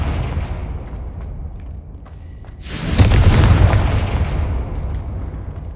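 A fire-blasting spell explodes in a video game, a loud booming burst that swells suddenly and then rumbles away over several seconds.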